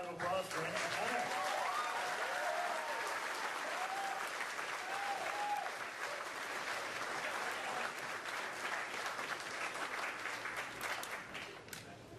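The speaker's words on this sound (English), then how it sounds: "One more round of applause for Anna Connor." Sustained applause from a crowd, steady and loud throughout, with a few faint whistles or cheers near the start.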